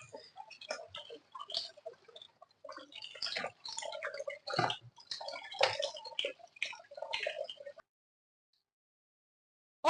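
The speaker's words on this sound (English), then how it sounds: "I'm actually done washing this. This is clean now." Meat gets washed in water before parboiling: close splashing, dripping and sloshing come in irregular bursts for several seconds, then stop into silence.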